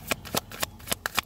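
Tarot cards are shuffled close up, giving six quick, crisp riffling bursts at an even rhythm within a little over a second, with no voice.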